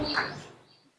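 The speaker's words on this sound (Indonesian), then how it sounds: "Terdengar suara-suara burung." Birds chirping outdoors, a brief bright call that fades out within about a second, alone with no talk.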